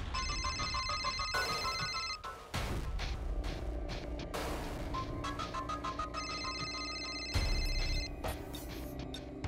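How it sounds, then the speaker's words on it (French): A mobile phone ringtone plays loudly as a repeating electronic melody, with a brief pause partway through before the pattern resumes, set over a low background rumble and no talking. "Rocky, ton téléphone sonne."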